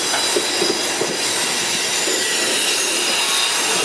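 MRS freight train with distributed-power helper locomotives starting up the Canguera grade in Brazil, a loud continuous rumble of rolling wagons with squealing wheels and faint rhythmic clatter, close by.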